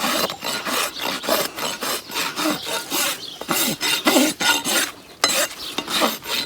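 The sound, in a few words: rasp smoothing a horse's hoof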